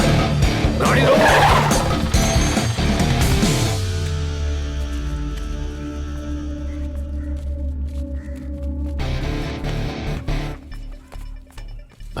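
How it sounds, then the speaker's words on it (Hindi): A car brakes hard to a stop with a long, loud tire screech and skid that fades out, followed by idling engine rumble and a short burst of rattling at the end. "गाड़ी रोको।"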